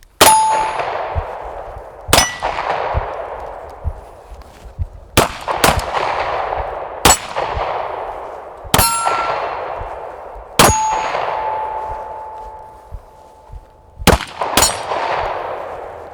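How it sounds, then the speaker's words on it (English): Pistol shots ringing off steel targets on an outdoor shooting range during a draw, shoot and move drill: about nine sharp cracks each followed by a bright metallic clang that rings out, spaced unevenly over several seconds, some in quick pairs. "Every piece of steel gets a hit."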